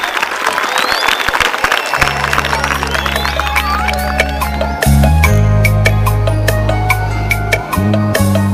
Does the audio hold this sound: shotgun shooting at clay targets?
no